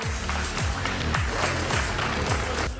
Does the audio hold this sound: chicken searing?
no